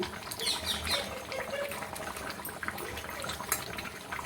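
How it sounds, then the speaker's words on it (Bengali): Mutton boiling water is tipped into a cooking pot, giving a faint, uneven liquid splashing and trickling with small clinks and squeaks, fairly close and without any talk. "এবার মটন সিদ্ধ করে রাখা জলটা দিয়ে দিলাম"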